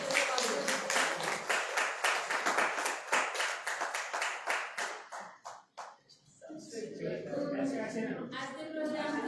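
Loud, sustained hand clapping fills a prize distribution ceremony for several seconds, then fades as a voice begins speaking over the hall.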